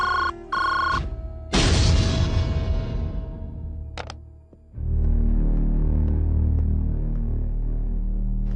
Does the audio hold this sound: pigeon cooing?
no